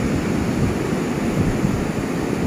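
Continuous broadband wash of sea waves on Lang Van beach on a choppy day, steady and fairly close with wind buffeting the microphone and no voices.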